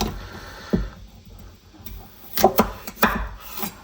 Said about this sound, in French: On prend les pommes de terre, on les coupe juste comme ça en deux.